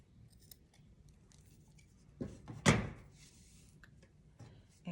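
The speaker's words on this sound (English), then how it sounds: "I'm going to go ahead and cut this nice and close to my knot there." Scissors snip through yarn right beside a knot in a chunky hand-crocheted blanket, a single crisp close cut standing out briefly from a quiet room.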